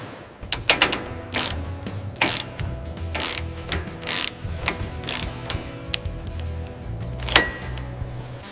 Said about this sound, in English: Hear that click? That's exactly what we want.